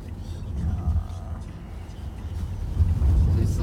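Dense city traffic sits in gridlock near Times Square, a steady low rumble of idling engines and road noise swelling toward the end, with voices talking over it.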